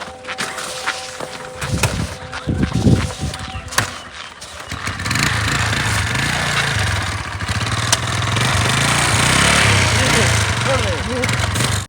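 A motorcycle that would not start sputters and catches after a push start, with some clattering and brief talk, then settles into a steady, fairly close idle that continues to the end.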